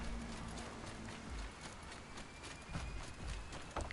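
Horse hooves clopping at a steady gallop in Horizon Zero Dawn, a rhythmic thudding carried under ongoing game ambience at moderate loudness.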